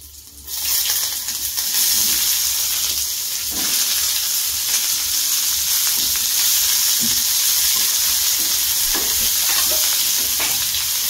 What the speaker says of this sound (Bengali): এবারে দেবো আমি গোটা জিরে, এবারে আমি কোচানো পেঁয়াজটা দিয়ে দেবো